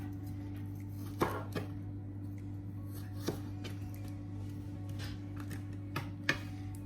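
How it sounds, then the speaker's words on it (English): Sharp knife slicing through a fresh aloe vera leaf on a board, giving a handful of crisp, separate cuts spaced irregularly over a steady low electrical hum, close and fairly quiet. "I'm just going to use my sharp knife to get rid of these"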